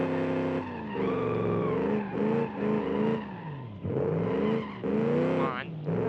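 A 1974 Pontiac Trans Am in BeamNG driving hard with a steady, loud engine drone that rises and falls with throttle, and a brief tire squeal as it tries to slide, with speech over it.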